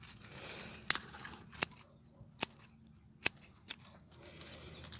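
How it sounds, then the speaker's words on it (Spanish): Scissors snip leaves off harvested celery stalks, five sharp, separate cuts spaced about a second apart, close and crisp over a quiet background, with no talking. "Ya casi vamos terminando de cortarle las hojas a los tallos."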